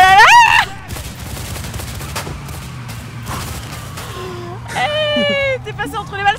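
Sporadic gunshots crack through a chaotic shootout in the A Way Out video game, mixed with a rumbling vehicle engine and shouting voices, with louder bursts near the start and end.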